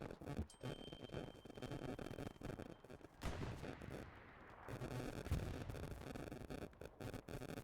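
Dense, continuous gunfire and booming explosions from a competitive match of the World War II shooter Hell Let Loose, including rocket fire. Heavy volleys roll on with a short lull in the middle.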